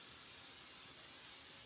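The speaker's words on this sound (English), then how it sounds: "Spray that with your cooking spray" Cooking spray hisses from an aerosol can into a tart pan in a home kitchen, one steady close spray lasting under two seconds and tapering off at the end, with no talking.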